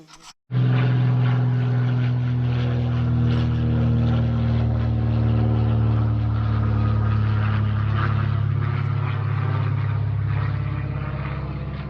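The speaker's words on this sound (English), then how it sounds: "Another day in Alaska with planes flying over." A propeller airplane drones loudly overhead in Alaska. The steady engine hum holds at full strength for the whole stretch, with no pause, and no voices.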